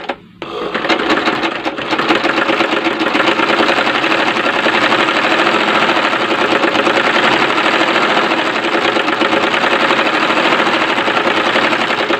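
Sewing machine stitching two fabric pieces together along the reverse side while making a round Mexi dress, a steady rapid mechanical whir running loud and continuous after a brief start.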